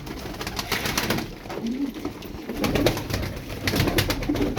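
Pigeons in a pigeon keeper's loft give soft, low coos several times amid a busy background of rustling and clatter.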